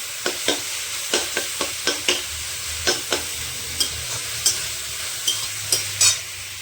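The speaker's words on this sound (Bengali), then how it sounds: "পেঁয়াজটা অনেক ভাজা ভাজা হয়ে যাচ্ছে" Onions frying to brown in a pan for egg fried rice, a soft steady sizzle punctuated by regular sharp scrapes and taps of a spatula stirring, close and without talking.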